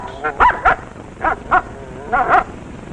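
A dog barks in a 1949 radio advertisement for Auto-Lite spark plugs, giving about six sharp, close barks in three quick pairs, clear against a quiet background.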